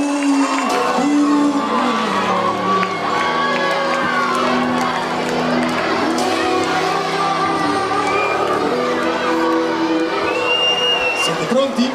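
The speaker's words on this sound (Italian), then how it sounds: "Caloroso applauso ai gialli" A lively crowd cheers, whoops and shouts at a final evening show as the yellow team enters, loud and sustained throughout, with excited voices and children shouting over steady applause.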